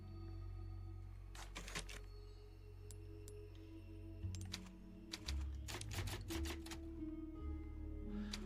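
Clacking typewriter keys at a save point in Resident Evil 4 VR, several quick clusters of sharp strikes in bursts, close and crisp over a low steady game ambience hum.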